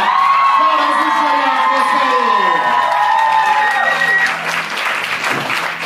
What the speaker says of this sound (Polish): I tu są brawa przeliczane.